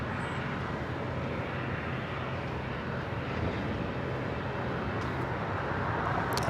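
A Boeing 747 airliner coming in to land at LAX, a broad continuous roar of jet engines that swells slightly as it nears, loud and steady with no voices.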